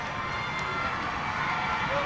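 A packed high-school basketball gym roars with a loud, sustained crowd noise, a steady wash of cheering and shouting that holds level throughout.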